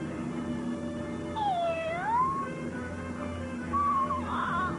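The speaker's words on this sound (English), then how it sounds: "Why, it's the little kitten from the pond." A cat meows twice, with drawn-out, wavering cries separated by a short pause, fairly soft over a quiet background.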